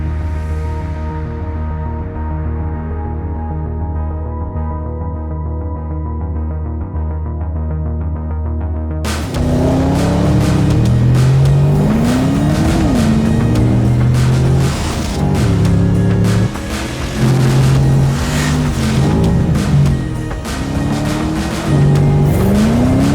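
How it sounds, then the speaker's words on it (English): A new Porsche Panamera is driven hard around the Nürburgring, loud engine roaring and revving through rising and falling gear changes with tire squeal, following a quieter musical opening. "Our test driver Lars Kern recently drove the car at the Nürburgring and showed what the new Panamera is capable of."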